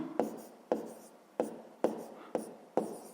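Pen strokes on paper while writing out a step of a sixth-grade fractions problem, six crisp separate scratching taps at even intervals, close and fairly loud with nothing else behind them.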